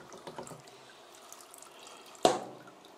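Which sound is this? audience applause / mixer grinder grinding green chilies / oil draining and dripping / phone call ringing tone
oil draining and dripping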